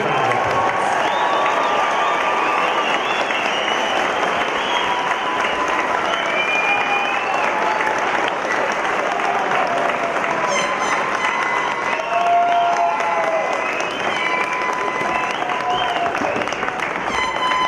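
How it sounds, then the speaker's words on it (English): Sustained audience applause mixed with crowd cheering fills a large hall at an engineering school convocation, a dense, steady roar of clapping lasting the whole stretch without pause. "I think they all deserve one more real round of applause."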